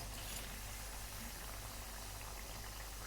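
Dal bati fry in hot oil, a dense steady bubbling sizzle that fills the short stretch evenly with no voices over it.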